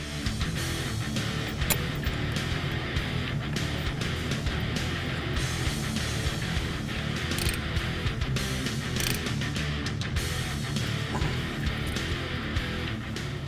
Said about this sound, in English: Now we're going to install the banjo bolt with the line.